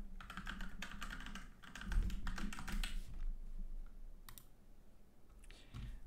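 A computer keyboard being typed on to set a new password, heard as a quick run of soft clicky keystrokes for about three seconds, then a few scattered taps, close and fairly quiet with no speech.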